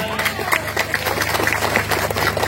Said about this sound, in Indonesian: Tepuk tangan yang meriah untuk Pak Haji Mas Dari Kidang